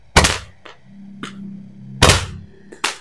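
Firecrackers burst on a toy dump truck, a loud sharp blast followed by smaller pops and a second big crack with a quick echoing report, close and alone.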